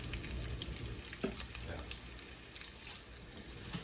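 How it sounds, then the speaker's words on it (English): Garlic, thyme and ground pimento sauté in a pan with a quiet, steady sizzle, broken by a few faint clicks of a spoon. "I'm gonna let this garlic and the thyme, the pimento, saute it for a little"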